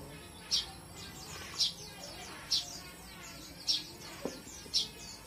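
A canary gives short, bright chirps at steady intervals, about five in all, fairly close against a quiet background.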